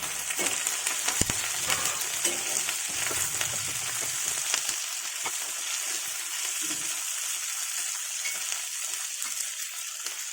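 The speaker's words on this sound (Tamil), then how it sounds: "எடுத்து வச்சுக்கிற தக்காளியும் கருவேப்பிலையும் அது கூட சேர்த்துக்கலாம். நல்லா கிளறி விட்டுக்கலாம்." Tomatoes and curry leaves fry in hot oil in a pan for turkey berry chutney, a dense steady sizzle broken by scraping stirs and occasional spoon knocks, close and uninterrupted by speech.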